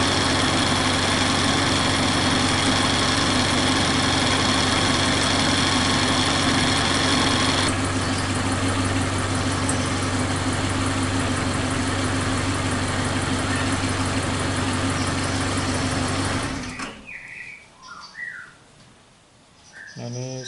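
A Suzuki Katana engine idles steadily and loudly at close range while the car's AC is charged with freon, then cuts off near the end, leaving quiet background and a few faint chirps.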